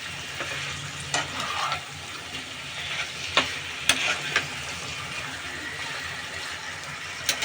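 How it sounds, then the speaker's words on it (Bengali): Chicken pieces and pre-fried potatoes sauté in a pan for a chicken curry, giving a steady sizzle broken by several sharp scraping clicks of the spoon as the mix is stirred. "আর দিব ভেজে রাখা আলু। এবার এই সবগুলোকে আমি কষিয়ে নিব ভালো করে।"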